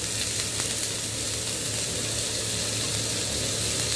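Onion frying in oil in an iron dosa kadai on a low flame, a dense, even sizzle close by that holds steady for the whole stretch.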